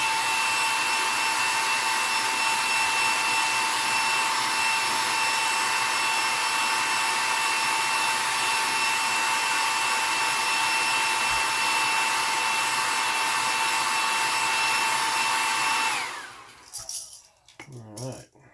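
A heat gun blows a steady, loud, whining hum as it heat-sets red paint on a craw fishing lure, running continuously for most of the clip before switching off, followed by a few brief handling noises.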